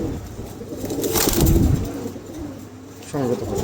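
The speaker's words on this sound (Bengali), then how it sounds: "চমৎকার একজোড়া কবুতর" Soft, low coos of a pair of pigeons close by in a pigeon shop, with a fluttering burst midway and faint background noise.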